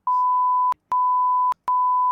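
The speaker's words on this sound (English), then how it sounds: "I'm just making you beep out all these names now in editing" Three steady censor beeps added in editing, each a clean electronic tone lasting most of a second, separated by short silent gaps.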